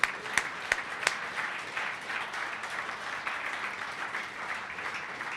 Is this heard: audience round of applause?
yes